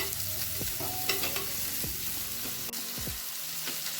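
A medium onion fries in a pan for Kerala-style fish molee: a constant bright sizzle with scraping stirs and light clinks of the spatula against the pan, close up.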